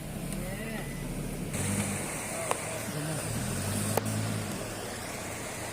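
A vehicle stuck in mud on a flooded mountain road to Tonsa village, its engine churning low and steady, with a couple of sharp knocks and faint voices in the background.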